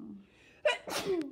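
One person sneezes once, close by: a quick breath in, a sharp explosive burst, then a short trailing exhale.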